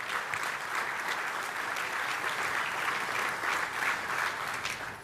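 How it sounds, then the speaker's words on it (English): A conference audience claps for event sponsors in a sustained, even burst of applause lasting several seconds and tapering slightly at the end. "Let's give them all a round of applause."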